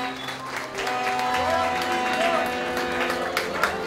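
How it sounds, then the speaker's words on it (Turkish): Applause from guests at an engagement ceremony, steady clapping over a background of music tones and chatter for about four seconds. "Güzel bir alkış gelsin."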